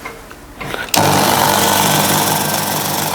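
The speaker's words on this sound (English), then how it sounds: "We're going to mill that flat" A milling machine starts cutting a small metal part for a finger engine, jumping after a quiet second into a loud, dense, rattling buzz of the cutter that holds steady to the end.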